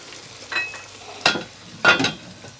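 Chicken frying in a pot and being turned over, a soft background sizzle broken by three distinct stirring scrapes and louder bursts of sizzling, close, no talk.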